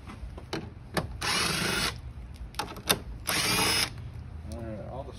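A power drill backs screws out of the front end of a 2017 Chrysler Pacifica during an active grille shutter replacement, two sustained whirring bursts close by, separated by clicks and handling knocks.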